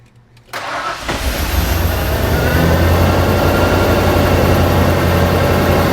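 An old-body-style truck engine, left sitting for years, briefly cranks and then catches, settling into a loud, steady, rough running rumble that continues to the end without talk.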